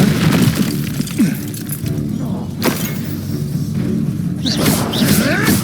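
A Confringo spell explosion in a Harry Potter video game, a sharp boom and crashing burst amid ongoing magical combat noise, with a second impact near the end, loud and close.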